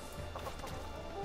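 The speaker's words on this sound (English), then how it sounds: "It's even chickens." Chickens cluck softly near a cave entrance in a video game, a brief run of quiet, close clucks over steady low background ambience.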